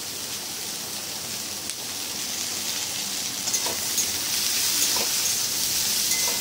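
Grated ginger sizzles in a little oil with vegetables for a veg dal, making a soft, steady hiss that grows slightly louder toward the end.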